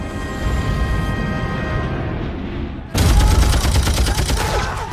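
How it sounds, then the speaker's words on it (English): Machine gun fire bursts out in a dense, rapid fusillade after a quieter rumbling stretch, loud and continuous, in a wartime beach landing on the Atlantic Wall defenses. "When the Allied forces land, they're met with a hail of machine gun fire."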